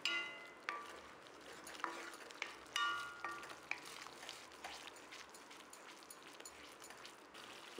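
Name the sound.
masala simmering in a pan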